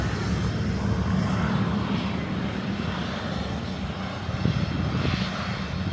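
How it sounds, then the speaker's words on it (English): A propeller plane's engine drones steadily throughout, a broad continuous roar that swells slightly without fading away. "So you can hear the planes taking off and landing."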